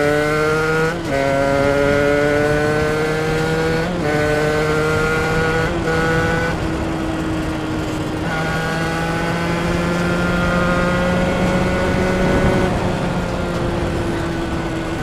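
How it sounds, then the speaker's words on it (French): A two-stroke 50cc motorbike engine holds a loud, steady buzzing drone up close, with its pitch stepping up repeatedly as it revs through the gears, carrying on without a break for the whole stretch. "Et puis tu as cette sonorité, le 2 temps quoi."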